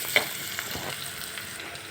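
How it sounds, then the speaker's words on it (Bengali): Onions frying in a pan with small fish, a steady close sizzle with a few soft stirring scrapes and one brief clink near the start, no voices. "এই যে ভাজা ভাজা হয়ে গেছে এই পেঁয়াজটাই হলো এই মাছের মূল তরকারি"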